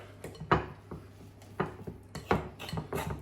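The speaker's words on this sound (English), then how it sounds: "just scraping the sides of the bowl down" A mixing bowl being scraped down around the sides while mixing low carb keto pizza dough, giving a few uneven scrapes and knocks against the bowl, close and fairly quiet.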